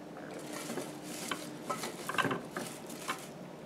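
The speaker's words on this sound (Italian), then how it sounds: "vi sto mettendo circa 50 grammi di prezzemolo" About 50 grams of fresh parsley being dropped into a Moulinex mini chopper bowl, heard as quiet, close rustling with a few light plastic clicks and taps and no talking.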